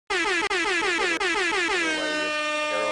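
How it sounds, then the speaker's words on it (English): A loud, sustained air horn blast in a live podcast studio, brassy and piercing, holding for about three seconds with two quick breaks before its pitch sags slightly. "We also got an air horn."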